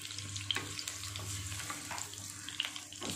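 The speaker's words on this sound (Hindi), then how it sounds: "इसको थोड़ा सौते कर लेंगे।" Finely chopped garlic and dried red chili sautéing in a pan for spicy Schezwan noodles, giving a steady close sizzle with a few light stirring clicks. No voices are heard.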